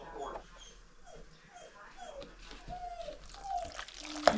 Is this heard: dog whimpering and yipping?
yes